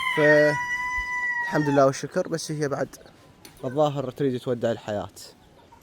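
A Cochin rooster gives one long, loud, close crow at the start, then someone speaks at length over the quiet background.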